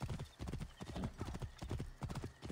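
Hoofbeats of a horse being ridden in the video game Assassin's Creed Origins, a quick rhythmic clip-clop that stays close and steady throughout, fairly quiet, with no talking.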